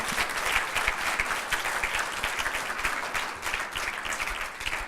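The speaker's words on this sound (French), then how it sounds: "C'est un applaudissement pour l'environnement, pas pour moi." Steady audience applause at a French round-table discussion, dense clapping from many hands sustained at even loudness for the whole stretch, with no voices over it.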